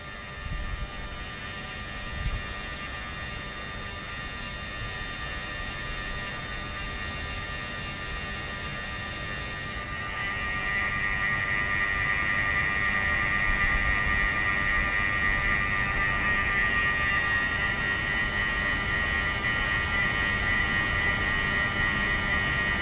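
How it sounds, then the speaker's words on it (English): The electronic throttle motor on a Mercedes V12 gives off a steady electrical hum and buzz with high whining tones. The hum grows louder and denser partway through, then holds there with no talking. "that's the humming noise, electrical noise that you're supposed to hear from both"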